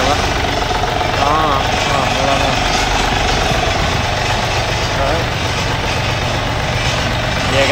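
A Yanmar F210 manual-gear tractor runs in gear up close, its diesel engine chugging loud and steady throughout, with a voice faintly under it.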